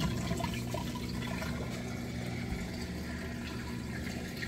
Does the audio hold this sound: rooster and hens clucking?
no